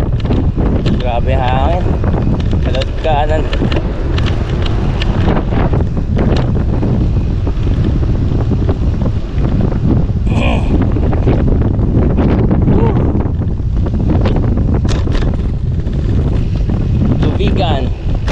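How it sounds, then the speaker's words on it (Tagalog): Strong wind buffeting a microphone during a long-distance bike ride from Cavite to Vigan, a constant loud roar with low rumble throughout, with people talking now and then. "Grabe hangin."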